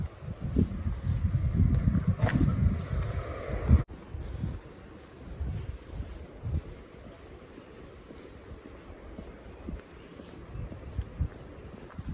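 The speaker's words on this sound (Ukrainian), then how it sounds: "трошки дощик пройшов, вітер піднявся." Wind buffets the microphone in rumbling gusts, strongest at first, then easing into lighter, uneven blasts.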